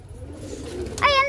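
Pigeons at a Khodiyar Mata temple, a low murmur of cooing and flutter in a busy flock, with a brighter, louder call rising near the end.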